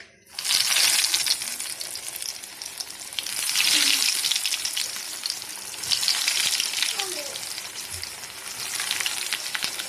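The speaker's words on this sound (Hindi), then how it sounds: "अब हम इसको शैलो फ्राई कर देंगे।" Breadcrumb-coated chicken and rice nuggets shallow frying in hot oil give a steady, loud sizzle and crackle throughout, swelling at moments with a few faint scrapes, and no one speaks.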